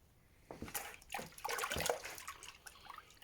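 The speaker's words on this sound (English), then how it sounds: "we want to wash off any of the excess salt" Water sloshes and splashes in a tub as excess salt is washed off a cured leg of pork, a few close bursts of swishing and dripping that fade toward the end.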